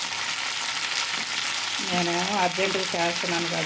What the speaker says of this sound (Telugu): ఈ చిటపటమంటం ఆగిందంటే తీసేసుకోవటమే ఫ్రెండ్స్